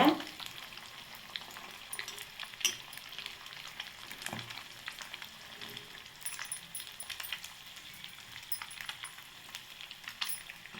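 Beaten egg frying quietly in oil, a soft, continuous sizzle with scattered light crackles and occasional faint metallic clinks of a utensil, fairly low in level with no voices.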